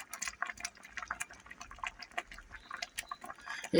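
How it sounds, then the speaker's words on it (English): Thick liver-and-onion gravy bubbling and popping in a pan, a quiet, irregular stream of small bursts heard close up. "You hear the bubbles?"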